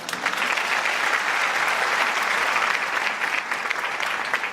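A stage programme audience breaks into full, continuous applause to welcome a guest up, a steady wash of many hands clapping at moderate distance.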